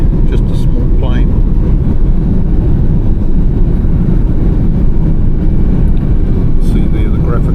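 Small passenger plane cabin during descent in turbulence, a steady loud low engine and airflow roar filling the whole span, with brief faint voices in the background.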